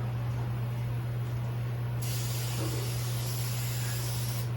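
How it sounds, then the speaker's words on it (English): A steady hiss of brake cleaner spraying onto a 2013 Subaru Impreza rear brake rotor starts partway through and runs to the end, over a constant low electrical hum. "Spray off our rotor."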